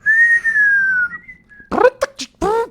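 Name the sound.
person whistling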